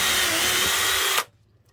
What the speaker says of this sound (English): I'm just going to grab my drill. I've got a super tiny bit in here.